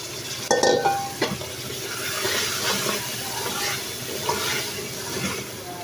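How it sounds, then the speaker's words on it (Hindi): Spinach added to mutton frying in a pot, a soft sizzle and hiss with stirring, led by a brief clatter as the leaves go in, then a gentle bubbling fry continuing alone. "इस तरह पालक डाल देंगे इसमें।"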